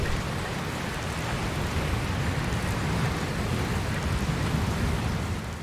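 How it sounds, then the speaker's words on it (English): Rain and a rolling thunderstorm in the video game Dragon Quest Builders 2: a dense, steady hiss of heavy rainfall with a low thunder rumble beneath it, continuous and even for several seconds, with no voices. "Looks like there's another storm rolling in."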